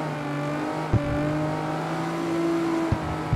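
A turbo-converted car in CarX Street revs and accelerates through the gears, a steady tonal engine drone rising in pitch with brief clicks at the shifts, close and alone.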